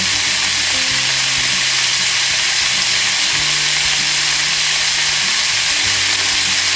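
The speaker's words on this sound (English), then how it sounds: "you want that sizzle, that sound. So make sure that your heat is really high so you will sear the beef properly." Beef searing in a very hot pan, with a loud, dense, continuous sizzle and hiss that holds steady throughout and has a low hum underneath, close up.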